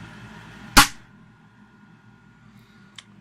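A cut-down ACC version 5 hard red foam dart fires once from a foam dart blaster, giving a single sharp, loud crack near the start. A faint click follows a couple of seconds later over low background hum.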